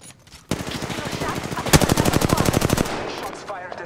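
Gunfire in Apex Legends: a dense crackle of shots opens abruptly, then a fast, even volley of automatic rounds rattles close and loud for about a second before cutting out.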